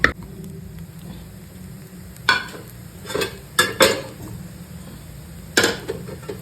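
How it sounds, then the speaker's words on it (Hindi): Fried vegetables stirred into fried rice in a pan, heard as a low frying hiss broken by a few distinct bursts of spatula scraping and clatter against the pan, close and without voices. "चावल के अंदर मैं ये जो सब्जियां मैंने फ्राई करके रखी थी वो डालूंगी।"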